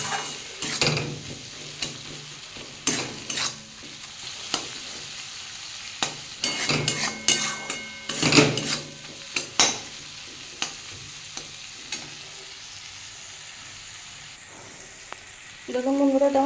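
Spices with turmeric and chili are sautéed in a pan for potol posto, with repeated loud scraping stirs over a soft sizzle that thins out toward the end.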